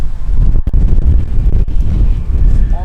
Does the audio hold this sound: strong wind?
yes